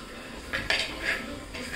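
A spoon clinks and scrapes against a pot while stirring chili powder into a fish curry, with a few distinct metallic knocks over a low, steady background.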